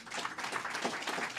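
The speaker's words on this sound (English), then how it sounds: "Please, a warm round of applause." Short stretch of audience applause at an apartment naming ceremony, a soft patter of many hands clapping at a moderate distance with no voices over it.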